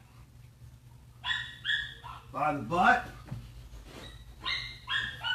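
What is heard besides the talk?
dog whimpering and barking while put in crate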